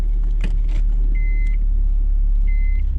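A Nissan 180SX idles loudly and close up after starting, giving a steady low rumble. Brief revs come near the start, and two short electronic beeps sound over the engine.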